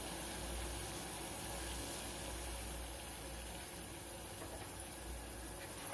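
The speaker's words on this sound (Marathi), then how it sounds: "पाण्याला उकळी आलेली आहे तर मी गॅस मीडियम करते" Water coming to a boil in a pot on a gas stove, a steady low rumbling bubble and hiss that holds evenly throughout, close and moderately quiet with no talking.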